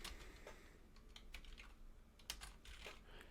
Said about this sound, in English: I could start by just typing an address in